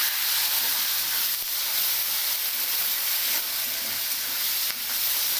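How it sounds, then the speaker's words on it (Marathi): Steamed peas tipped into a hot pan of Kolhapuri upit (upma), setting off a steady, close sizzling hiss that holds evenly throughout with no voices. "आता आपण ह्याच्यामध्ये जे मटर घेतले वाफलून ते टाकू."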